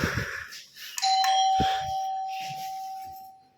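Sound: doorbell ringing

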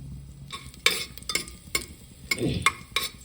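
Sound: cumin and garlic frying in hot oil

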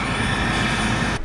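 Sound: approaching helicopter

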